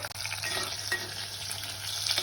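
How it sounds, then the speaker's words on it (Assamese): Fish sizzling and frying in hot oil in a wok, a steady dense crackle with occasional stirring scrapes, close and continuous throughout. "মই এতিয়া মাছকেইটা অকণমান ফ্ৰাই কৰি ল'ম এতিয়া মই মাছকেইটা তেলত দি দিছোঁ"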